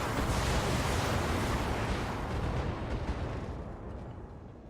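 AC-10 autocannon fire from a Hunchback 4H mech in the Battletech video game, a heavy dull boom that swells into a long rumbling roar and slowly fades, with no talk.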